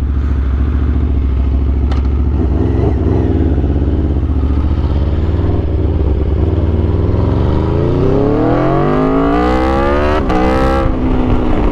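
An Aprilia RSV4 sport motorcycle engine idles with a rough, throaty burble, then revs up several times, pitch climbing sharply as the throttle opens; loud and close.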